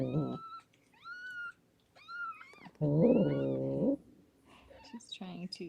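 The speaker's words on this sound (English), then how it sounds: "Noisy kittens get growled at and smushed." A mother cat lets out a long, low guttural growl at her newborn kittens, set among high, thin kitten mews that come in short bursts before and after, all close and fairly loud.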